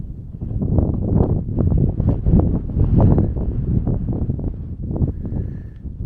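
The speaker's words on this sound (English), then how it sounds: "the wind's probably going to make a bit of noise here" Gusty wind buffets a microphone on an open fell walk in the Lake District hills, a continuous low rumbling roar with surging gusts and no talking.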